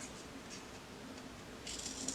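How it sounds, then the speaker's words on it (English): Scissors snip through paper while a little house mini album is made, a few faint, brief cuts over a quiet background, with a slightly clearer snip near the end. "now it's super easy just to use my scissors and literally just cut."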